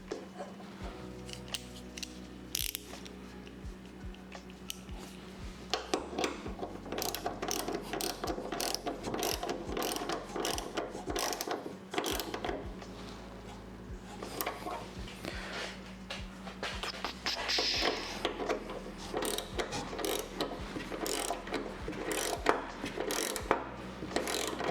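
Ratchet wrench tightening a bolt on an oil cooler bracket, dense runs of rapid metallic clicking with brief pauses, close and continuous.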